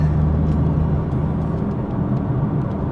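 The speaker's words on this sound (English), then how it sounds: "having that sound from the exhaust at the straight six" Exhaust note from a straight-six car: a continuous low, rumbling drone with a steady engine hum, heard close and unbroken for a few seconds with no talk.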